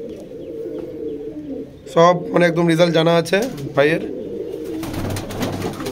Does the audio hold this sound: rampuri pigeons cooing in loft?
yes